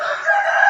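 A chicken at a temple in Chae Hom, Lampang, gives a short, loud, close crowing call that lasts under a second.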